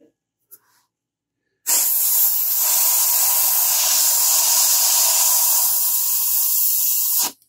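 An airbrush sprays paint in a loud, steady hiss that lasts about six seconds and then cuts off sharply, after a few faint clicks.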